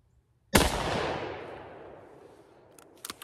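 A single loud, close gunshot from a Thompson Center Contender pistol chambered in .32-20 Winchester or .44 Magnum, a sharp crack outdoors with a long rolling echo that fades over two seconds, followed by faint clicks.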